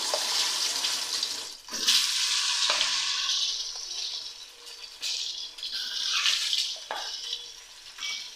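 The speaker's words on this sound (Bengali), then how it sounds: "ডিমটা ভেজে নেব, তাই তেলটা দিয়ে দিলাম।" An egg coated with salt and turmeric fries in hot oil in a pan, giving a loud, continuous sizzle with sharp surges and brief dips, and nobody talks.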